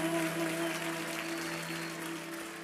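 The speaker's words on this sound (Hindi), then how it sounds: "एक बार जोरदार तालियां हो जाए" Steady applause from a television dance show studio audience, a dense continuous clatter of clapping over a faint hum that tapers slightly toward the end.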